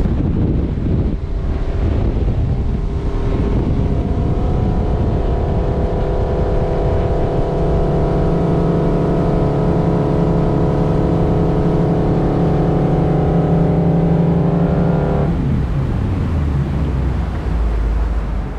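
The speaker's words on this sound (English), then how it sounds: "please do not be the guy that does a power turn to pick up their rider like so" A wake boat on a lake makes a power turn, its engine droning steadily under heavy wind and water rush, then revving up before dropping off sharply near the end.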